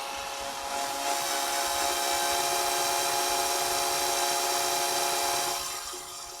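A power drill grinds steadily through material with a worn drill bit run without lubricant, a loud sustained whine and rasp that holds for several seconds before easing off at the end.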